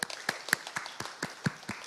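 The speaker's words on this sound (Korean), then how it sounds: "하나님 하나님께 영광의 박수 올려드리겠습니다" A church congregation claps in praise to God, a sparse run of distinct handclaps at a steady, slightly uneven rhythm, fairly close and clear.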